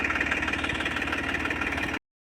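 Eicher tractor engine idling on a farm at wheat sowing time, a steady, close, continuous rumble that cuts off abruptly near the end.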